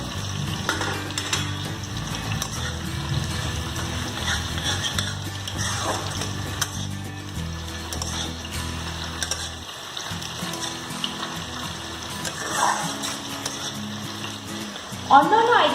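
Bengali chutney fries in a pan with roasted five-spice masala, a constant close sizzle and bubble with occasional scrapes of a spoon and a clink of cookware near the end.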